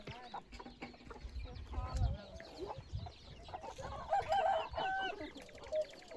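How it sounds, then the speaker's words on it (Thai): Roosters crow in the early morning around a rural family home, calls rising among nearby clucking hens and faint background chatter, moderately close. "ฟังเสียงไก่ขัน"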